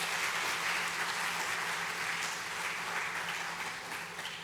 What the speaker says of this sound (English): Let's have a huge round of applause once again.